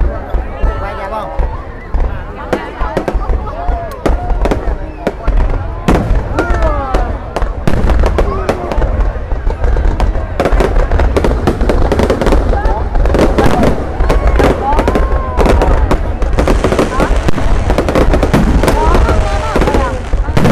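New Year's Eve fireworks burst over the city square in Thái Bình, Vietnam, with dense, rapid cracks and booms layered over one another, loud and close, while a crowd chatters and calls out throughout.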